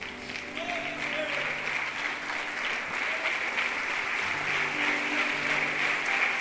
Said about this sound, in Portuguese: aplaudindo ao Senhor Jesus Cristo